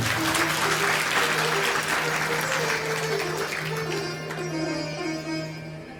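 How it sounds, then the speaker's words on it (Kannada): At a Shivakatha discourse event, a large audience claps loudly and continuously, steady dense applause that slowly fades toward the end under a faint sustained tone. "ಜೋರಾಗಿ ಮೊದಲೇ ಚಪ್ಪಾಳೆ ಹೊಡೆದು"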